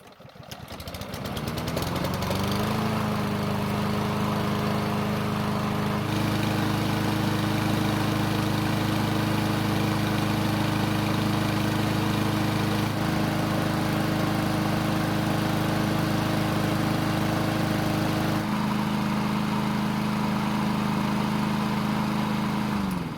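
A lawn mower engine starts up and then runs steadily with a constant droning hum, close and loud throughout.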